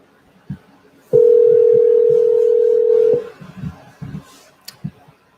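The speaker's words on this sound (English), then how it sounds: "Let's give this guy a call." A telephone dial tone rings out while a cold call is being placed, one steady, loud electronic tone lasting about two seconds between soft clicks and faint background voices.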